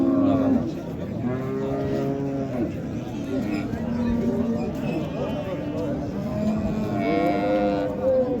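At the Karshi cattle market a cow with her calf gives several drawn-out moos amid the crowd's busy chatter and background bustle, the calls rising and falling near and mid-distance.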